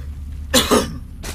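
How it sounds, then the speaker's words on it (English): A single close, loud cough bursts out in two quick heaves, followed a moment later by a short, softer throat-clearing sound in an otherwise quiet room. "Still a little bit of a cough."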